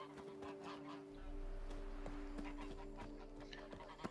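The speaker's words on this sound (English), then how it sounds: "Some geese." Geese honking in a medieval village setting in The Witcher 3: Blood and Wine, several short calls scattered over steady background ambience and a low hum, moderately faint.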